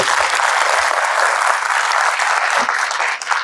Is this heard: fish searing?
no